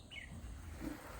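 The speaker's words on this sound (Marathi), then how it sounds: "गाई गुरांचा आवाज, पक्ष्यांचा आवाज." Birds chirp faintly on a Konkan morning near a cattle shed, a couple of short thin calls over a low outdoor hum.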